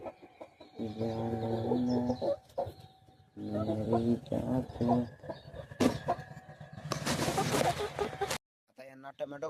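Chickens cluck in bursts close by in a farmyard, with short pauses between calls, while a person talks at times.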